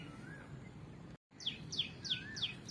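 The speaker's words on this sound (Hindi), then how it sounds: "कितनी प्यारी आवाज़ है कोयल की।" An Asian koel calls in a mango orchard with blossom and fruit on the trees, a series of four rising, whistled notes repeated at even intervals above a faint, steady background.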